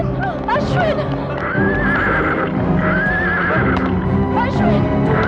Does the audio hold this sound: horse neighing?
yes